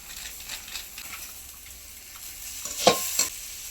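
Spice masala with coriander powder and Kashmiri chili powder fries gently on low heat for a river fish curry, giving a soft, faint sizzle that ends in a couple of louder spoon scrapes against the pan.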